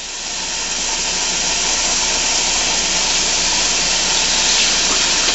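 Running water sprays and hisses steadily while homebrew beer bottles are rinsed, a continuous close broadband wash that builds slightly at the start and holds even throughout.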